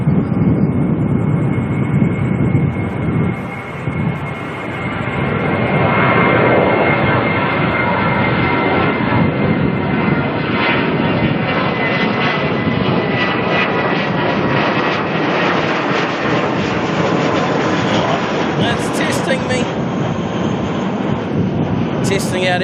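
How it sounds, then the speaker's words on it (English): A Jetstar jet airliner takes off from Auckland Airport toward Christchurch, a loud broadband engine roar that swells and holds for the whole stretch, heard outdoors from a distance, with faint talk nearby. "let's quickly grab this Jetstar heading off to Christchurch."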